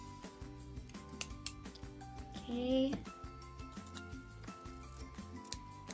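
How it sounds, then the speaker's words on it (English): Dull scissors snipping and distressing denim jeans to make ripped knees, a run of short crisp cuts and clicks repeating through the clip, close by, with a brief spoken word. "Since my scissors aren't that sharp, I can hold it like this and just distress it."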